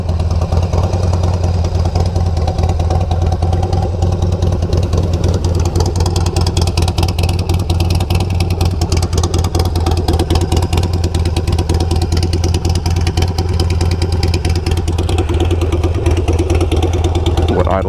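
A Harley-Davidson fitted with a Kinetic 'The Coil' exhaust idles loud and close, a deep, steady, lumpy rumble that runs unbroken throughout with no revving.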